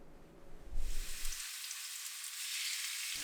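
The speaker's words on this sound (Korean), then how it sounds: "오징어를 넣고 볶아요." Squid stir-frying in a hot pan with garlic and scallion oil, a steady bright sizzle rising suddenly after a brief clatter and holding loud and even to the end.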